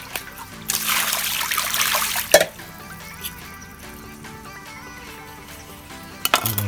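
Tap water runs and splashes in a sink as a chicken is washed, a loud trickling burst early on followed by quieter drips, clinks and light splatters, with no talking.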